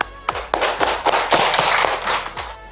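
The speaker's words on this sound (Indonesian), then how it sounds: "Oke, tepuk tangan dulu." A few loud hand claps in an irregular sequence, close by, each a sharp slap with some ringing, without anyone talking.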